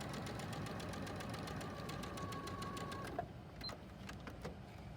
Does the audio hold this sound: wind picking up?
no